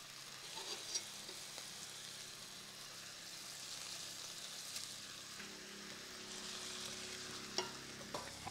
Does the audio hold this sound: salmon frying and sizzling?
yes